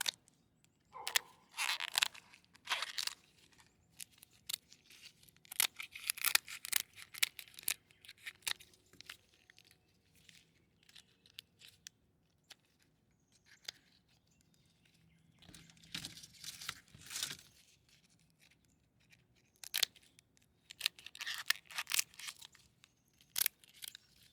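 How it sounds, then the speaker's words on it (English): Kitchen scissors cut through a lobster shell in bursts of crisp snipping and crunching, separated by quiet pauses, close and fairly faint. "I use a scissor like this, and I'm going to cut it"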